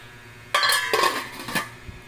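A metal lid clanks onto a cooking pot of vegetable and fish soup (laswa), several close, bright clatters in quick succession as it settles, then quiet.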